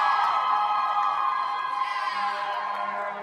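An ice hockey crowd at a Colorado vs Weber State game cheers loudly as the home team takes the ice, a sustained roar with whoops that eases slightly over a few seconds.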